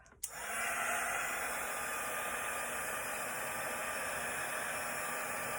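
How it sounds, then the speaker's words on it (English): A heat tool for embossing a card switches on after a brief click and blows a steady, even whoosh of hot air that holds for several seconds. "we're going to put on our heat tool and see how this goes"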